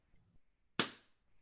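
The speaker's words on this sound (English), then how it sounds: "That was popping an inflated polka dot balloon." An inflated polka dot balloon pops once, a single sharp loud burst that decays quickly in a quiet room, with a couple of faint soft sounds before it.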